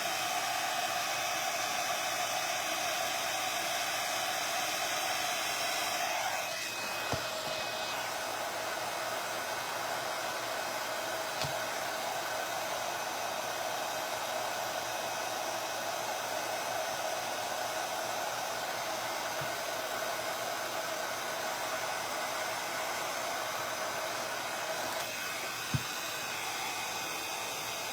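An electric heat tool blows steadily for the whole stretch, a loud constant whooshing hiss with slight shifts in pitch, no voices over it.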